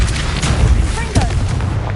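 A Confringo blasting spell exploding in the video game Hogwarts Legacy: a loud, sustained booming blast with a dense low rumble filling two seconds, and a voice shouting over it.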